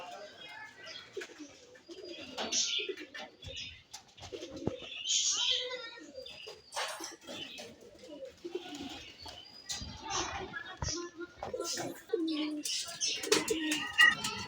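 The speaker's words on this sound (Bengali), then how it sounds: "চালের উপরে দেখেন অনেকগুলো কবুতর বসে রয়েছে" Pigeons coo repeatedly at close range on a roof, low throaty calls overlapping one another, with occasional wing flaps and chirps in the background.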